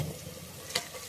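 Chicken masala sizzling in a pan as it is stirred, a brief frying hiss with one sharp scrape of the spoon near the end.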